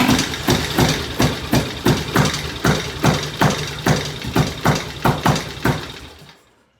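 T50M motorcycle engine at a first start, running at raised idle with evenly spaced heavy thumping pulses, close and loud, before it dies away at the end.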